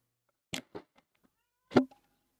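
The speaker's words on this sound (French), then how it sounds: "Il est malade ce chat." A cartoonish video game cat lets out two short meows, then a louder, strained yowl after a pause, all close and clear against silence.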